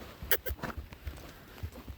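A horse walks with steady clip-clop hoofbeats during a rainy-day ride while its rider practises neck reining; the hooves are soft and fairly close, with faint low thuds between the steps.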